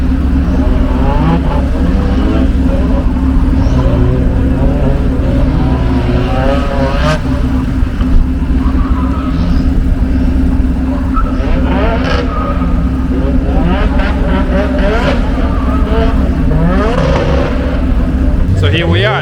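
Cars making gymkhana demonstration runs around cones at a Formula G UK event, engines droning and revving steadily throughout with handbrake-turn manoeuvres, moderately close, with people talking over the noise.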